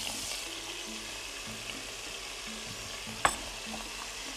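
Tofu sizzles steadily in a hot pan, a constant frying hiss with one brief clink of a utensil partway through.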